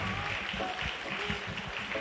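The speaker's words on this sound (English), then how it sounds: "So please give her a round of applause and happy early anniversary to the Ong couple" A church audience applauds a couple's anniversary, steady crowd clapping heard at a moderate distance with a murmur of voices beneath it.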